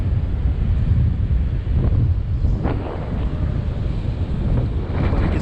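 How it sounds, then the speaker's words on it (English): Extreme wind buffets a DJI Ryze Tello mini drone in flight, a loud, continuous low roar of microphone wind noise with gusty surges throughout and no voices. "He's fighting with the wind."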